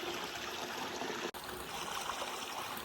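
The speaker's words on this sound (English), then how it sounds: "look at the backdrop of that lovely river" A low river in Fermanagh flows with a steady, soft trickling wash, broken by one brief dropout in the middle; no talking.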